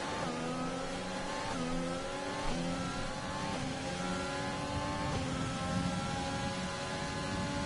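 Formula 1 cars from the F1 2020 racing game on the Zandvoort or Shanghai circuit, engines screaming through rising gear runs with steady repeated upshifts, loud and continuous with no talk.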